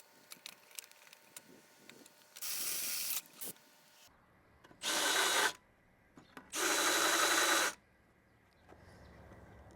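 A drill bores holes in a metal panel for rivet clearance while building a vehicle bumper, in three short bursts of high whirring separated by quiet pauses and small clicks.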